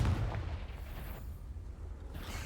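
A Confringo blasting spell from the video game Hogwarts Legacy goes off as a deep, rumbling explosion. A strong low boom opens it, then a rough, sustained roar lingers and slowly fades, with no talk over it.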